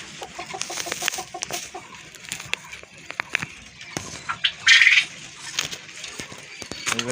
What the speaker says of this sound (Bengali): কোয়েল পাখির খামার।